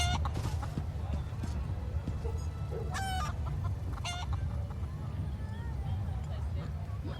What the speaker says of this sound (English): Could have been they could have made a chicken noise.